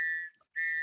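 A shrill whistle sound effect blows in two bright, steady blasts separated by a short silent gap, clean and loud.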